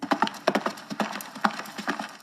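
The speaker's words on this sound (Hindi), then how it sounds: "मेरे कानों में आवाज पड़ी घोड़े के टापों की" Horse hooves clopping in a quick, uneven rhythm of sharp hollow knocks, close and clear with no voices.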